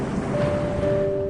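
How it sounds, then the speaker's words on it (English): Large ocean waves crash as a sound effect in a fantasy table read, a dense, steady wash of surf with a sustained low tone and no voices. "excited by the large waves crashing against one another."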